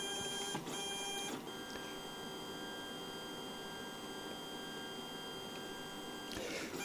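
A Lulzbot Mini 3D printer runs quietly, its stepper motors whining in sustained tonal notes that shift pitch as the head moves, with faint mechanical ticks and low background hum.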